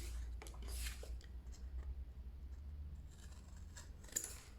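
Scissors snipping paper corners at a 45-degree angle for a folio project, several short crisp cuts close by, quiet over a low background hum, without talking.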